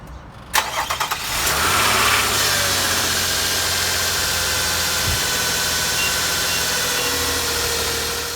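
Nissan Maxima 3.5 engine cranking briefly and catching, then settling into a steady, loud, close idle that runs on evenly.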